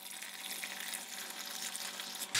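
Water poured from a large container onto a dense cluster of houseplants, a steady broadband splashing and trickling that runs continuously, ending with a brief louder burst.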